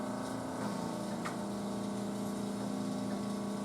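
Vacuum suction device running steadily during a skin treatment, a continuous pump-like hum with a droning tonal whine, close and unbroken throughout.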